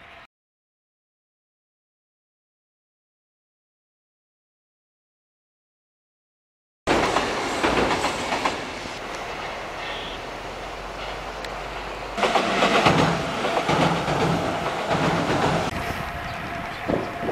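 A train passes a level crossing in Osaka, loud and close, with rushing wheel rumble and clattering that swells after a brief silence, then a second louder surge.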